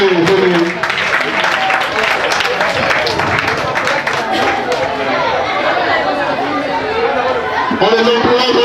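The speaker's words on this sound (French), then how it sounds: "On applaudit très fort pour eux." At a private school show, an audience claps loudly for preschool children. The dense applause runs steadily throughout, mixed with crowd chatter and voices.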